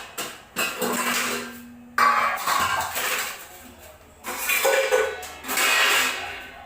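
Hard plastic and metal clunks and clatters as a large mixer grinder jar is handled and lifted out, in several separate bursts with short pauses between.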